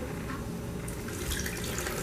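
Water is poured into a blender holding bananas, a short, soft trickling splash heard up close with no talk.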